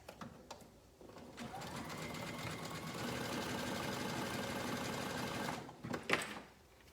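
Sewing machine top stitching a swimsuit, a fast continuous mechanical whirr with rhythmic needle chatter running for several seconds, close by, between brief stops and handling noises.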